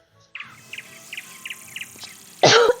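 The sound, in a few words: cough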